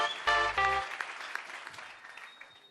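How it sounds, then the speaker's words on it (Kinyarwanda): A church congregation breaking into applause, a brief burst of clapping that starts with a short tonal sound and then trails off quickly over under three seconds. "Nimugira muri komera Imana amashyi"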